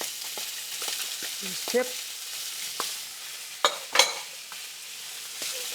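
Bamboo shoot strips being stir-fried in a pan for moo shu pork, with a soft steady sizzle broken by scraping stirs and a few sharp clatters of the utensil against the pan, and a brief spoken word.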